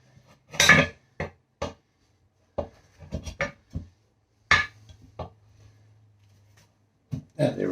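A crowbar scrapes and clanks against a car tire and rim during a do-it-yourself tire mounting, with irregular metallic knocks and scrapes, one loud grinding burst and a low hum in between.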